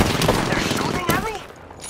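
Gunfire in Apex Legends, a dense burst of rapid shots with sharp transients over a busy game mix, with a voice briefly speaking over the shooting.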